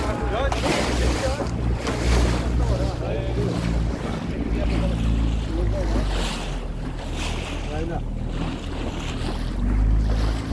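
Motorboat heading out to an island at sea, its engine rumbling steadily beneath heavy wind buffeting and splashing water for the whole stretch, loud and close.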